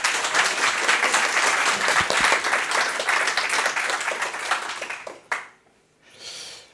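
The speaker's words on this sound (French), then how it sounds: "je vais vous demander des applaudissements" An audience at a tech talk applauds loudly for about five seconds, then the clapping cuts off abruptly, leaving brief faint noise.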